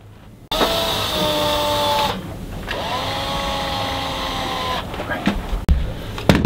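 Power drill driving 5-inch titanium screws into a treehouse wall, a loud steady whirring burst that rises and sags in pitch over a few seconds, stopping and starting again, with people talking around it.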